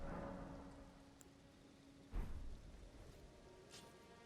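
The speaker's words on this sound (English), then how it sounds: "And it's raining." Rain and thunder in the video game Elden Ring: a soft, steady patter of rain runs throughout, broken midway by one deep thunder rumble, with no voices.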